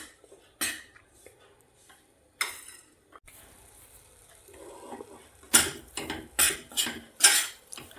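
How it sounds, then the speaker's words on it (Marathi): Gram flour is roasted in a pan with a spoon: a few isolated metallic clinks early, a quiet stretch, then a quick run of close, loud scraping and clattering strokes. "आता आपण याला भाजून घेऊयात"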